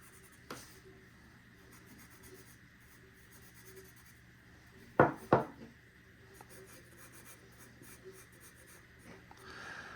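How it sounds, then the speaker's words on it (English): Permanent marker scribbling along a knife's cutting edge, a quiet continuous rubbing squeak with two sharp louder taps midway, in a still room. "I like to take a permanent marker or marker of that sort, or of any sort, and just color in this cutting edge"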